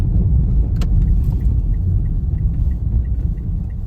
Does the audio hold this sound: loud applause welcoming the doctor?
no